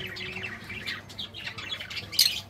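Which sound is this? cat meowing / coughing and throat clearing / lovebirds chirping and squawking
lovebirds chirping and squawking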